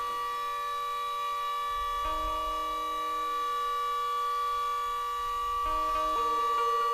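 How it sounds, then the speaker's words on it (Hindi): A steady civil-defense siren wails on and on at a religious discourse, a long sustained tone holding from start to end with slight shifts partway through and a low rumble beneath. "अब ये सायरन बज लेने पहले हो फिर बोले।"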